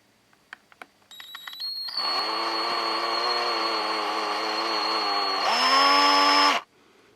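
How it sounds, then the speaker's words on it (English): Small drill bit boring into the kneecap of an action figure, a high whining motor that starts after a few clicks, runs steadily for several seconds, then rises in pitch before stopping abruptly, close and clear. "I'm going to drill into the kneecap."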